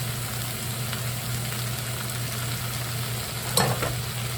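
Vegetables are stir-fried in a pan for a shrimp fried cauliflower dish, with a continuous nearby sizzle, a low steady hum underneath, and one sharp clatter of a utensil near the end.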